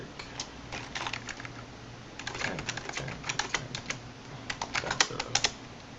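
Keystrokes clatter on a computer keyboard while commands for router setup in Packet Tracer are entered, irregular bursts of close, crisp taps with short pauses, no voice over them.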